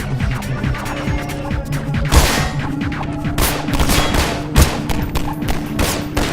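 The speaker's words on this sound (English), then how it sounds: "I really wish they would stop shooting me" Gunfire aimed at the player in Half-Life 2: sustained rapid shots and crackling bursts with heavier impact thuds at intervals, loud and close over a steady game background, no talking.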